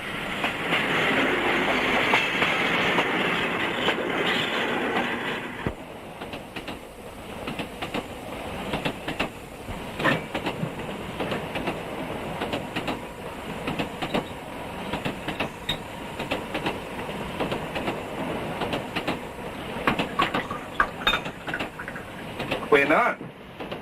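A train rattles along the tracks in a 1960 Afrikaans comedy, with a steady close rumble and rhythmic clickety-clack of the wheels that continues under talking voices, the tone shifting partway through.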